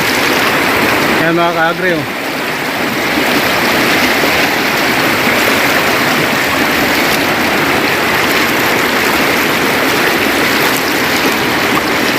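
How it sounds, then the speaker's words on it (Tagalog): The Umanod River flows steadily at a crossing point, a loud, continuous wash of rushing water that fills the whole stretch, with a brief spoken voice near the start. "Ito ang Umanod River. Tubig ng Umanod."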